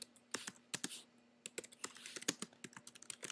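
Rapid keystrokes on a computer keyboard, close and clear, with an irregular patter of clicks in short bursts and a faint steady hum underneath, no voices.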